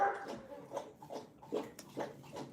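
A dog whimpers in short, repeated whines, about one every half second, fairly close and moderately quiet, with no talking.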